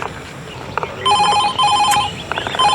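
A mobile phone rings with a bright electronic ringtone in repeated warbling bursts, close and loud, over faint background noise.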